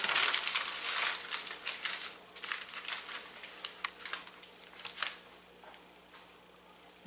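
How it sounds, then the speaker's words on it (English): Aluminum foil being crimped and rolled into a tent over a deep-sided glass dish, close crinkling and crunching bursts that come thick at first, then thin into scattered sharp crackles. "Bring your tin up, roll it down. I'm going to try and get a little air space. You want to make sure you curl the edges up real well."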